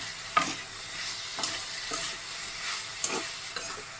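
Sweet pumpkin bhaji cooking in a pan: a steady hiss of frying runs throughout, broken by a few sharp spatula scrapes and stirs spaced about a second apart.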